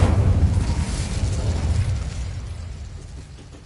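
An Incendio fire spell cast in Hogwarts Legacy bursts out as a loud, booming whoosh with heavy low rumble, then trails off over a few seconds.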